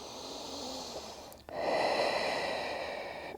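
Close, steady breathing during yoga: a long slow inhale, a brief pause, then a fuller, louder exhale with an airy rush.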